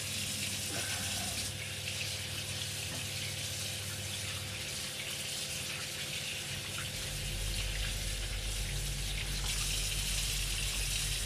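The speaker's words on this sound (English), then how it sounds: "Just rinsing the pan out because I need this pan." Tap water gushes steadily into a pan being rinsed in a kitchen sink, a continuous close splashing rush that deepens and grows fuller toward the end.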